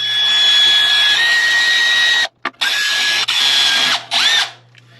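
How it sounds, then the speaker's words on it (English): A drill gun bores into a furnace fan pulley, giving a loud, close, steady high-pitched whine that runs for a couple of seconds, cuts out briefly, restarts, then winds down. "take your drill gun, go in right here."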